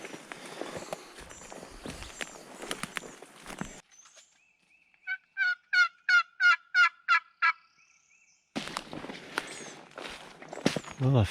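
A wild turkey in spring woods in Missouri gobbles in a rapid series of about eight loud, rattling bursts, clear and alone against quiet air, between stretches of rustling footsteps.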